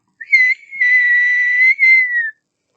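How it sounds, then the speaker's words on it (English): A single sharp, shrill referee whistle blast starting a Quidditch match in a Harry Potter audiobook reading, loud and close, held for about two seconds with a brief dip partway through. "With a sharp blast on his whistle"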